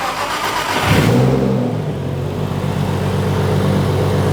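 A Nissan R33 six-cylinder engine, its ignition fault fixed, cranks and catches with a brief rising rev, then settles into a steady, close idle that runs on smoothly to the end.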